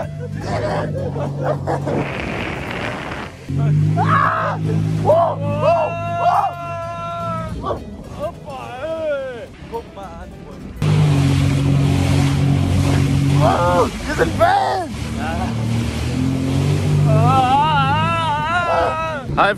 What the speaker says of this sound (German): Wir sind jetzt auf dem Jetski.